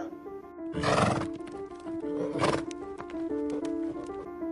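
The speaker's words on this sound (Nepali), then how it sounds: "अगाडिबाट एक सैनिक घोडा कुदाउँदै आउँछ।" A soldier's horse neighs loudly twice while galloping, shrill whinnies rising over steady background rumble, close and prominent.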